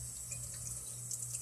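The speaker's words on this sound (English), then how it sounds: "Just going to lightly run water over it." Tap water runs steadily at a sink over a piece of etched copper, a soft continuous splashing hiss with faint dripping, close and quiet, no voices.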